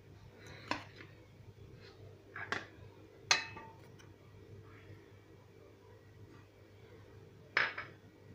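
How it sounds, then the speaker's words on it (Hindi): Raw mango pieces, mint, garlic cloves, green chilies and black salt dropped into a jar, giving several sharp clinks and knocks spread out over a quiet kitchen hum, with the loudest taps near the start and end. "तो हम अभी सब एक जार में डाल देते"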